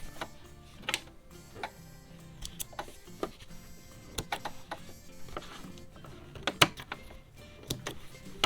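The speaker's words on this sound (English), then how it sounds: "you just turn it and you sew over your stitching and then back stitch to tie your stitches off" A sewing machine stitches and back-stitches across a dish towel, producing quiet, irregular mechanical ticking and clicking with short pauses between runs.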